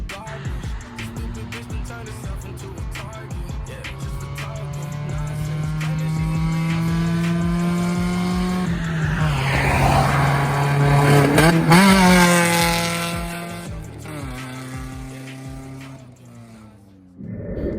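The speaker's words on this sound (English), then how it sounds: "it is very loud without the muffler on with those new headers" A Mazda Protege 5 with new headers and no muffler revs loudly up close, its raw exhaust rising and falling through several throttle blips before dropping back toward idle.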